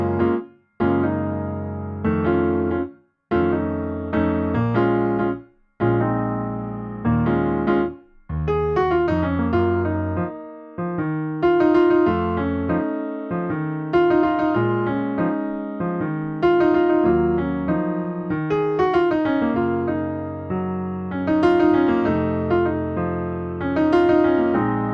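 Solo piano performs a pop song, starting with a few spaced, separated chords before settling into a continuous flowing passage of rich chords and melody, loud and close throughout.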